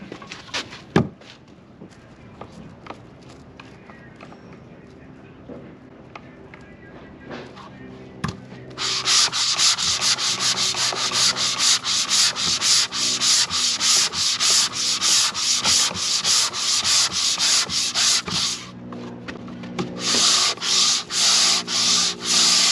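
Quiet rustling and a few knocks, then sustained loud, rhythmic scraping of sandpaper or a sander across wood, pausing briefly near the end before resuming.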